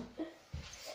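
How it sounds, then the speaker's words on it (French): A pet dog gives two short, soft whimpers close by, separated by a brief pause, against faint background hum. "C'est mon chien."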